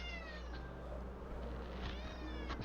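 A pet cat meows close by, a few drawn-out plaintive cries over a low steady background hum.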